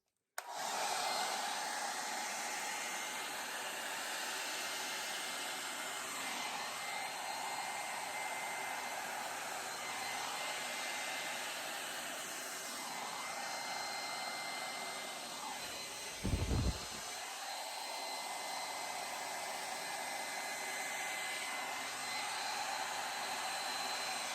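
Steady air blowing across wet acrylic pour paint, a continuous broadband hiss like a hair dryer held close, running unbroken for the whole stretch with one brief louder puff near the end.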